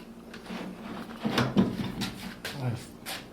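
Drawers on a Harbor Freight workbench slide open and shut, giving several short close knocks and scraping rumbles spread across a few seconds, with speech alongside.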